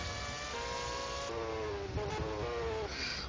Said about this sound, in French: toujours ce moteur Renault avec cet affreux son